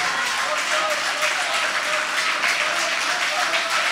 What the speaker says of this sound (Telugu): ఒకసారి గట్టిగా చప్పట్లు కొడుతూ దేవునికి స్తోత్రం చేద్దాం